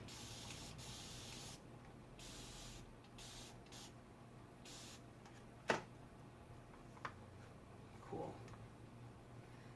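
Several short hissing bursts of spray paint on a china cabinet, faint and close, separated by quiet gaps, with a few small clicks and taps.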